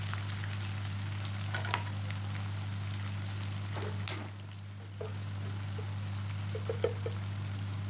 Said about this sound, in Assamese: পিঁয়াজখিনি ৰঙচুৱা হোৱালৈকে ভাজি থাকিব লাগিব।